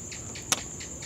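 Faint repeated tik-tik clicking call at night in a cemetery, a few soft pulses over a steady high insect drone, with one sharper click in the middle.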